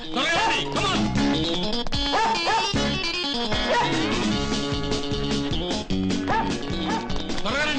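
Dog barking and yipping in a Telugu film scene, heard in quick repeated yelps and whimpers over a busy music score with crashes, loud and continuous throughout.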